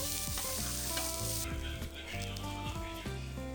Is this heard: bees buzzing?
no